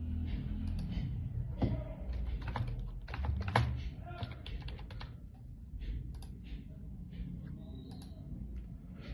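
A vehicle number is typed on a computer keyboard as a quick, uneven run of sharp key clicks, close and fairly quiet, with someone talking softly over the tapping.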